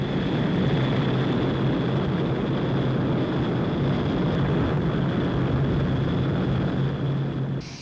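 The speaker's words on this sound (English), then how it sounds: "this short to medium-range 62-seater, the 748, a direct descendant in a line of planes" An Avro 748 turboprop airliner, a short to medium-range 62-seater, drones steadily and loudly throughout with a constant engine hum and a sustained tonal whine, no pauses.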